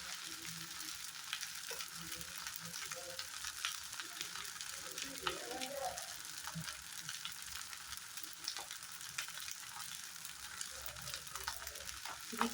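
Vegetables fry in ghee with a soft, continuous crackling sizzle and scattered faint stirring clatter, quiet and steady throughout.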